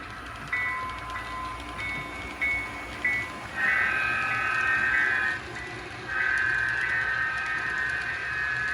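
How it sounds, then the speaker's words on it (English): A model train runs on a layout, a quiet rolling rumble under repeated sustained horn tones, some short and some longer, sounding at a moderate distance. "This train left Portland, Maine in the morning. It'll be in Boston in a couple hours' time."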